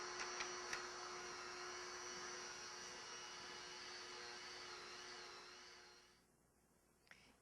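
A bread mixer's motor kneads bread dough with a faint, steady whirring hum that holds level for about six seconds, then winds down and cuts out, leaving near silence.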